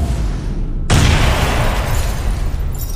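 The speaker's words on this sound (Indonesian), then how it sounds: "Ledakan kecil menyapu mereka." A small explosion sound effect: a sudden loud boom breaks in after a low rumbling bed and then rolls on as a broad, sustained roar, with no talking.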